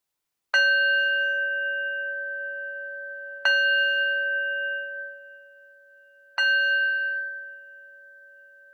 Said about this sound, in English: I'll start by ringing the bell.